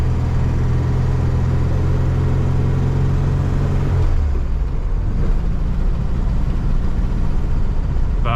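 A VW Super Beetle with worn motor mounts and a shaking engine cruises at about 25–30 mph, its loud, close engine rumble and drone steady throughout, the low hum dipping slightly partway through.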